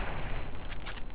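A brief burst of gunfire in the video game Fallout New Vegas, a few sharp cracks late in the moment over a noisy, hissing background.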